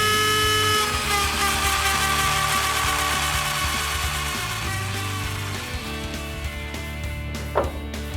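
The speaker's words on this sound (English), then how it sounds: "So let's ream that out. I've got a bit on my Dremel" A high-speed Dremel rotary tool whines steadily close by as it reams out a hole during suspension work, its pitch shifting slightly as it grinds, easing off near the end with a brief scrape.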